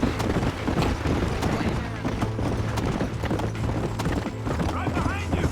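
Horse hooves galloping in Red Dead Redemption, a fast continuous clatter under game music and loud shouting voices throughout.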